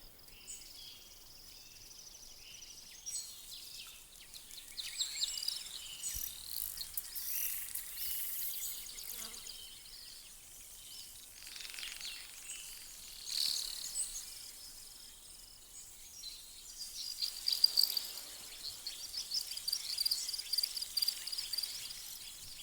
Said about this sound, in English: a lot of small insect sounds, a lot of bird sounds